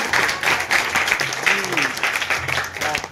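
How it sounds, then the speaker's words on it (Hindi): A classroom of school students claps together in a dense burst of applause that continues throughout, with a teacher's voice talking over it. "अरे वाह, जोरदार ताली बजाओ।"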